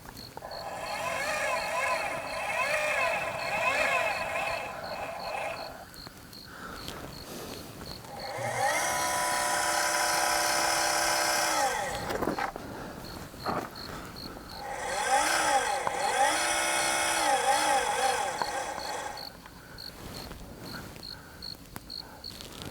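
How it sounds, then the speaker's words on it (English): An alt-az telescope mount's motors slew toward a star, whining in long pulsing bursts that rise and settle, with quieter gaps between; someone speaks quietly at times. "Then the motor speed comes down."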